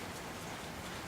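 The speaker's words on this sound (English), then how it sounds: "it's still raining" Steady rain falls outside a workshop, a faint, even hiss with no breaks over one brief second.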